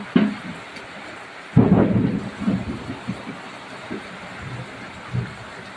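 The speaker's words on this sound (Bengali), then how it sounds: "বৃষ্টি হচ্ছে আর ও চান করছে দেখো" Steady rain hisses throughout, broken by heavy rumbling thunder, with a loud roll near the middle and softer rumbles after.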